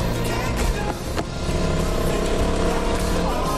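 Car engine in the video game Tales from the Borderlands, a loud steady motor drone running continuously with a brief dip and a sharp transient near the middle.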